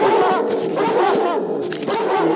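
Dogs barking in Tomb Raider II Remastered, several yaps and woofs running together under a dense, loud game soundscape.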